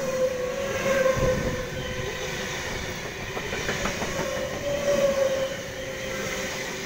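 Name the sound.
train approaching platform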